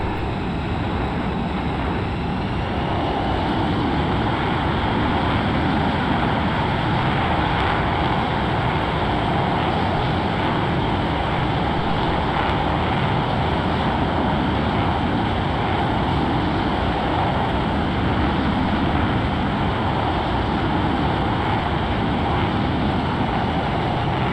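F-15EX fighter jet engines roar steadily in flight, a dense continuous broadband rumble heard from inside the aircraft, loud and unchanging for the whole stretch with no talk over it.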